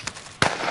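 A sudden grenade blast in Warzone, a short sharp bang that cracks in after a faint pop and leaves a brief crackling tail.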